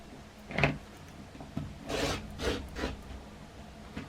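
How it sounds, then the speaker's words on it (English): Two layers of quilting fabric, one light and one dark, are cut together for a Christmas star quilt block, giving a few short, quiet rasping strokes separated by pauses, with no talking. "So I'm cutting both fabrics together."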